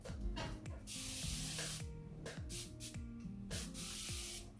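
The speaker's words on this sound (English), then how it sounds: "I'm just giving my furniture a little bit of a spritz." A spray bottle spritzing water onto a dresser painted with cobalt blue, several quick bright hissing bursts in a loose rhythm, close up, with soft rubbing and handling sounds between them.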